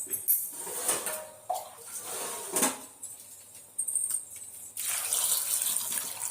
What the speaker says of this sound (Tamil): தண்ணியை ஊற்றி நல்லா கழுவி